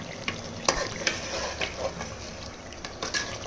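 Mutton korma being stirred in a pot with the lid opened: scraping, scooping strokes through thick sizzling meat and sauce, close and steady, with a few sharper knocks against the pot.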